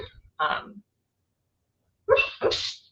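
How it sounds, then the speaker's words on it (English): A sleeping dog lets out two soft, muffled bursts of dream barks, with a short yip first and then a longer gap, close by and with no other noise. "You got the dream barks happening."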